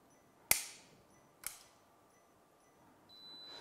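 Circuit breakers on a consumer unit snapping on and off during a continuity test, two sharp loud clicks about a second apart over quiet background hum, followed by a faint rising tone.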